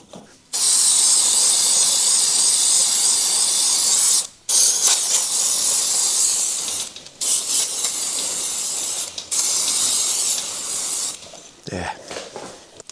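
Solvent-based chain cleaner sprays in long hissing bursts onto a motorcycle chain, several loud close blasts separated by brief pauses, with a short softer spurt near the end.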